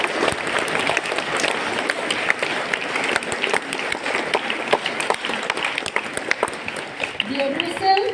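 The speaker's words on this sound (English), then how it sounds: "So all of you give a big round of applause to Mr." Audience applause at a felicitation ceremony honoring a young author, sustained steady clapping from a full crowd at close range throughout, with faint voices mixed in near the end.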